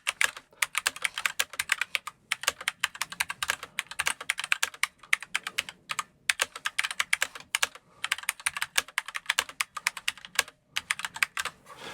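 Continuous mechanical keyboard typing on red switches with soft, rapid keystrokes in uneven bursts and brief pauses, close and clear, no voices.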